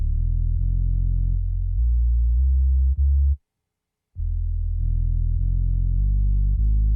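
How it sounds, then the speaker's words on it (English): A bass line in a gospel song mix, run through light Saturn saturation for a slightly distorted edge: full, sustained low notes that hold steadily, then drop out for under a second and return. "I'm doing just a little saturation on the bass to give it a little bit of edge and a little bit of distortion."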